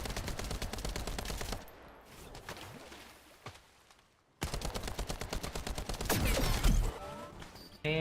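Rapid automatic gunfire in The First Descendant, a shooter video game, loud repeated bursts of dense shots that stop for a couple of seconds, then resume with heavier fire and a reload clatter.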